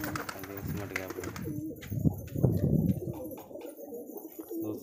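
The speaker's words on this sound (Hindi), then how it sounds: "देखिए कबूतर कैसे धूप ले रहे हैं कोने में, देखो पंखों में धूप लगा रहे हैं" Pigeons coo softly while sunbathing in a sunny corner. Repeated low, throaty coos sound close and fairly quiet, with a few faint chirps and some rustling between them.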